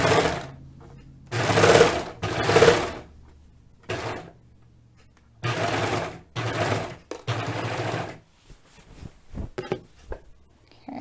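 A serger overlocks the finishing seams of a knit sweater dress in short, loud bursts of rapid whirring stitching, stopping and restarting several times, with small clicks and handling noises between runs.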